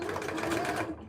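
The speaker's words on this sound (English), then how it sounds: "So what we're doing here now is a top stitch, just to hold that seam nice and in place." A sewing machine runs a brief, fast burst of top stitching along a trouser seam, its rapid mechanical whir close and steady before cutting off at the end.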